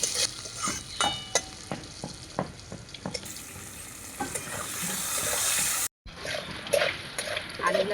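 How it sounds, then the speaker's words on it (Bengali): Potatoes fry and sizzle in a pan with dried chillies, whole cumin and turmeric, with a steady hiss broken by repeated stirring scrapes, a brief pause, then more sizzling close by. "আলুগুলো লাল লাল করে ভেজে নিলাম।"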